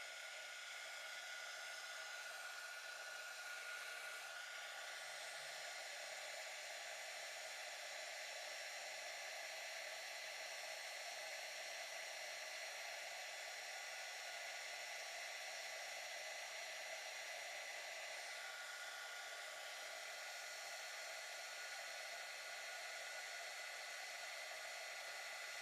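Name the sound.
torch heating solder on a round jewelry pendant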